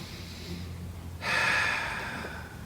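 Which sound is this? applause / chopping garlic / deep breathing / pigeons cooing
deep breathing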